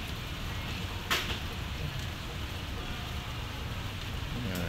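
Light rain falls steadily at midday as an even, continuous broadband hiss of drops, with one brief sharper patter partway through.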